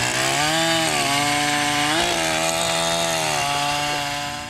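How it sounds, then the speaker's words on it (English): A chainsaw runs loud and close, its whining motor rising and falling as the throttle is revved, with no voices. "a woman with a chainsaw. Vroom, vroom."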